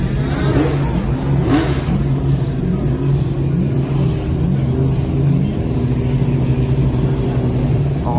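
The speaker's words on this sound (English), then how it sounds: "That's Brumos Porsche." A Brumos Porsche racing car's engine at Goodwood rises and falls through repeated revs as it passes, a loud, close, rumbling drone that holds at a steady roar.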